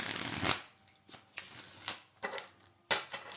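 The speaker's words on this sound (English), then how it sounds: "Bailey, we're going to shuffle these cards." Tarot cards being shuffled by hand in a series of crisp riffling bursts with short pauses between them, close and clear with no talking.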